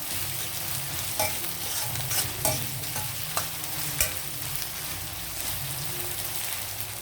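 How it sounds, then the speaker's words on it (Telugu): Ginger and garlic frying in a pan with turmeric, salt and chili powder for a chicken curry, a steady close sizzle broken by a few sharp scrapes and taps of a spoon stirring. "ఇప్పుడు పసుపు సాల్ట్ కారం ఇవి కూడా వేసేద్దాం వేగుతుంది అల్లం వెల్లుల్లి పచ్చివాసన పోయేలాగా"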